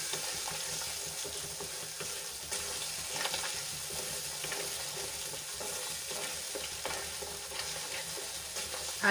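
Gravy sautéing in a pan while being stirred gives a steady, soft, close sizzle with faint scraping from the spoon throughout, and no talking.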